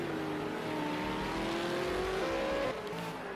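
V8 Supercars race at Ruapuna Park, a loud, steady engine roar with shifting pitch as cars run the circuit, no voices over it.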